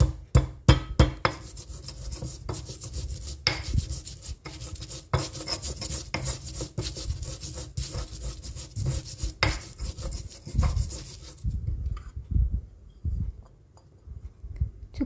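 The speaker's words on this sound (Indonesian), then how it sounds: "2 kemiri saya haluskan juga" Two candlenuts are ground by hand, likely in a mortar, for tempeh chips, making rhythmic rasping and knocking strokes that go on steadily and close before tapering off near the end, with no speech.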